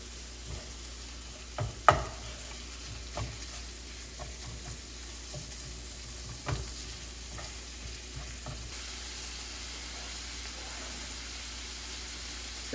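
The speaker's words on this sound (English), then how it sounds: "I'm gonna cook this chorizo sausage. Blend it with those vegetables." Chorizo sausage frying with chopped vegetables in a pan gives a soft, steady sizzle, with a few stirring scrapes and light knocks; no voices.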